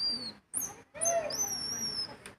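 Palawan-an tribal call device blown to imitate a bird, giving a few short, high, whistling hoots and warbling calls in separate bursts, close and clear, with no talk.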